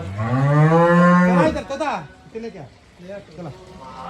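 A loud, close dairy cow moo, long and drawn out, followed by shorter lowing sounds and grunts.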